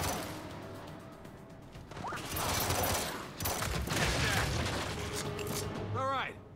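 Bursts of gunfire and crashing impacts in the shooter game Gears 5, with rapid volleys coming in loud waves. Voices shout over the combat at times.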